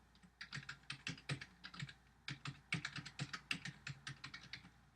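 Keys clatter on a computer keyboard as Java code for a Spring programming tutorial is typed, a close, fairly quiet stream of irregular clicks in quick bursts with short pauses and no voices.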